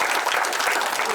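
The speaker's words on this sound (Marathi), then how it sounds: "जोरदार टाळ्या व्हायला पाहिजे" An audience at a Marathi film trailer launch bursts into loud, dense applause that carries on without a break across the moment.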